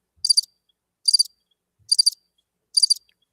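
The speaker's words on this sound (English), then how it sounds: "Crickets. Nothing." A cricket chirping sound effect plays four short, evenly spaced trilled bursts against complete silence, clear and crisp.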